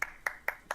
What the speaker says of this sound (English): Yeah, let's do a clap.